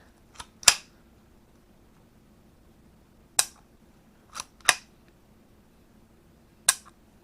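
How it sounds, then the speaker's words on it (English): Several crisp mechanical clicks from a Bryco Jennings Model 59 9 mm pistol safety, spaced irregularly and close by, with quiet in between. "There's a safety off, click."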